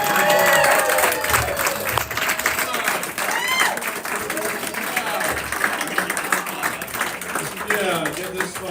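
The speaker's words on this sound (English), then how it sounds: "I want you to give a really great old Saybrook warm round of applause for" Comedy night crowd at Saybrook applauding and cheering as a comedian is introduced, a loud burst of clapping that thins into scattered claps and whoops under talk and laughter.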